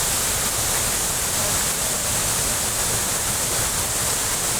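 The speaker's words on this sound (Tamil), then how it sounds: "சின்னசுருளி அருவியில் திடீரென வெள்ளப்பெருக்கு ஏற்பட்டது." Chinnasuruli waterfall in flood roars as a loud, dense, unbroken rush of water, constant throughout with no pauses.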